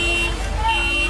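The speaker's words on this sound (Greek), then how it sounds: "Τα συστήματα συναγερμού των φλεγόμενων οχημάτων ηχούν ασταμάτητα" Alarms blare from burning cars of visiting fans after a football derby near the Tsirio stadium, a continuous, droning alarm tone with a wavering pitch while someone talks over it.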